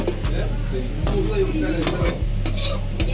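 Mutton in gravy, Bengali-style rewaji khasi goat meat, scooped and stirred from a kadai into a pressure cooker, with steady metal-spoon scraping and clinks over a constant sizzling hiss, several sharper knocks of utensil on pot.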